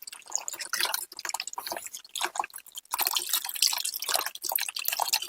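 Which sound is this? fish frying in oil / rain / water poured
water poured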